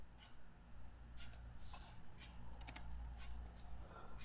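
Keys pressed on a computer keyboard while a PowerPoint slide is edited; a few soft, close clicks over a quiet room hum.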